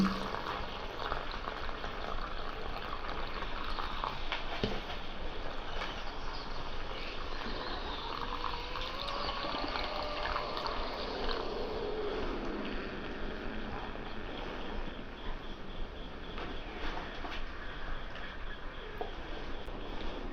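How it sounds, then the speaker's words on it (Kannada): Water bubbles and boils steadily in a pot heated without fire, for cooking rice, as a continuous dense churning hiss at moderate level with no voices. "ನೀರು ಈಗ ಕುದಿ ಬರ್ತಾ ಇದೆ"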